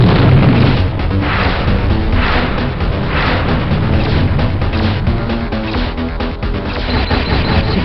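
A security base blows up in the combat game Hellbender with a loud, sustained roar of explosions and rumbling debris. Repeated bursts swell and fade over the blast, and no one speaks.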